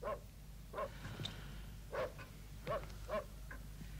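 A dog barks off to the side in short single and paired woofs spaced a second or so apart, fairly faint, over a low steady hum.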